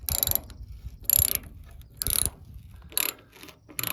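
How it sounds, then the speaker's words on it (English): A ratchet wrench with a 9/16 socket loosening a bolt on a cargo glide hitch, heard as four crisp bursts of clicking separated by short pauses, close to the microphone with no talking. "Okay, it's gonna take a 9/16 socket."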